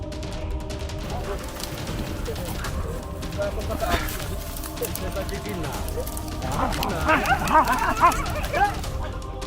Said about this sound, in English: The dogs accompanying the tribespeople here have the task of tracking and chasing the prey.